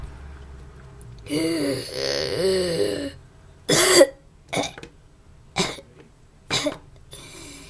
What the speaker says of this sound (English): He's coughing because he enjoys it.